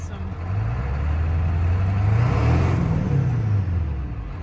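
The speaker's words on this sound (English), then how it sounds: "like when you rev it up now, totally smooth all the way through the RPM" The engine of a 1957 Chevy Tri-Five barn find revs up smoothly, a deep, loud rumbling drone that rises and falls, heard close with no talk over it.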